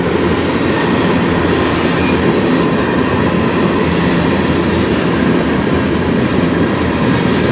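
CN freight train rolling past on the Strathroy Subdivision, a loud, close, continuous rumble of wagons with rhythmic clatter over rail joints and faint wheel squeal, steady throughout with no voices.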